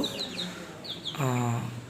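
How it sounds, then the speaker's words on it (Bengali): A guinea fowl (titi chicken) among high-grade poultry, slightly ill after hours soaked in rain, gives a few short high calls followed by a louder harsh cackling burst, close by. "তো এটা হচ্ছে একটা তিতি মুরগি, এটাকে তিতি বলে, অনেক দুষ্ট।"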